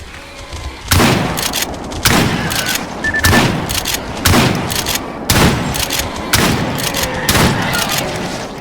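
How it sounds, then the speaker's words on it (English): A new eight-shell shotgun fires in STALKER GAMMA while hunting: about seven loud, booming shots spaced roughly a second apart, each with a short echoing tail. "Let's test out the new shotgun."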